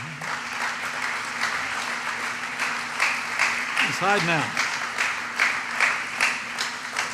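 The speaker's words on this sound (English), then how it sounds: "Would you join me in giving a round of applause" Applause from an audience at a vice-presidential speaking event, a steady crowd clapping that runs throughout, with a voice speaking briefly over it.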